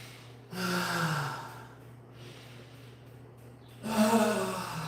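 A man demonstrates deep breathing, with two long, loud breaths drawn close up, one near the start and one toward the end, separated by a quieter pause with a steady low hum underneath.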